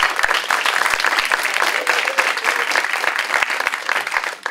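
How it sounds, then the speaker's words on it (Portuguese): An audience applauds a lecturer at an evening talk, dense continuous clapping from many hands filling the room for several seconds, fairly loud and close, with no speech over it. "uma salva de palmas para o professor"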